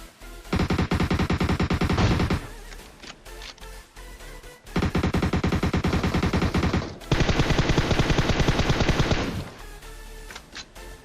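Rapid automatic gunfire from a shooting video game, loud and close, arriving in three long sustained bursts separated by short pauses, with occasional single shots in the gaps.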